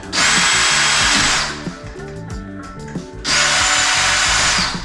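Power drill driving down a spare, unused screw during an electrical fixture install: two loud sustained whirring bursts with a quieter gap of low mechanical clatter between them, close up with no talk.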